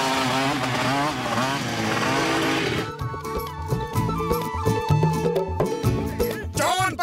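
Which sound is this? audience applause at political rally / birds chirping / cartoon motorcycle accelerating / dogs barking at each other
cartoon motorcycle accelerating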